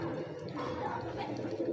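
A silk pigeon coos softly in a low, throaty warble, close by under a steady background hum. The calls are muffled and rolling with no clear pauses, and no voices can be heard.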